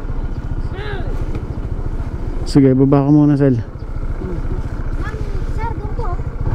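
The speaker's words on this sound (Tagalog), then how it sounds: "may motor dun." A small motorcycle engine idles with a steady low chugging throb in a parking area at Minalungao National Park, while people talk nearby and a revving vehicle briefly swells louder in the middle.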